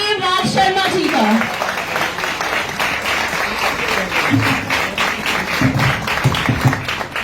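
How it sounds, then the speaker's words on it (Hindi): Loud, sustained applause from an audience welcoming an MLA onto the stage at a girls' government school event in Katra, dense clapping holding steady throughout. "जोरदार तालियों से स्वागत करें श्री माता वैष्णो देवी माननीय विधायक श्री बलदेव नाथ शर्मा जी का"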